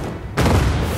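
Ship cannon fire in the online game Cloud Pirates, a loud, close boom bursting in suddenly over a dense, noisy battle background.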